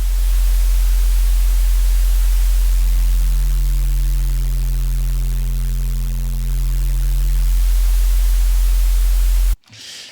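Dense, harsh clipped white noise sits over a deep, steady sub bass in an EDM bass patch, with a layered harmonic tone swelling in the middle before cutting off abruptly near the end.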